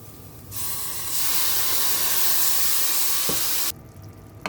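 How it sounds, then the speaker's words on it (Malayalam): Boiled carrot and potato tipped into a hot pan of sizzling masala for a Kerala-style vegetable stew, setting off a loud, steady hiss and sizzle that lasts about three seconds before dropping back to a quiet simmer. "ഇനി നമുക്കിതിലേക്ക് വേവിച്ച് വെച്ചേക്കുന്ന ക്യാരറ്റും പൊട്ടറ്റോയും ചേർത്ത് കൊടുക്കാം."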